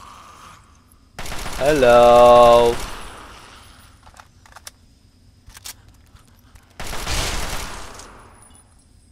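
Gunfire in the video game Fallout 3: a rapid burst of automatic shots, then scattered single clicks and a second short burst, with a brief spoken greeting over the game sounds.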